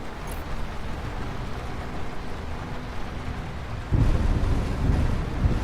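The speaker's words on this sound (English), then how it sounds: "It's been raining non-stop in this game." Steady rain with rumbling thunder in the video game Lightyear Frontier, a constant wash that swells louder and deeper partway through, with no voices.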